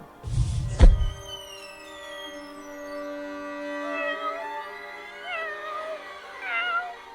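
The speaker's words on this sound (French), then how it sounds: "C'est le chat de Galpurnia." A cat gives one long, drawn-out meow with a wavering, rising and falling pitch, which follows a brief thump at the start and is heard clearly and alone.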